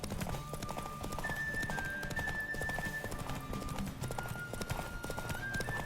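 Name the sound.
horse galloping in a video game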